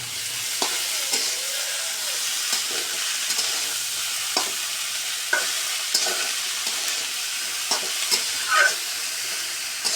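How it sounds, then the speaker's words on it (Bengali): Bottle gourd pieces tipped into hot oil with dried red chilli and cumin, a steady bright sizzle and frying hiss with occasional stirring scrapes and clinks, close up and with no talking. "এখন আমি লাউগুলো দিয়ে দেব।"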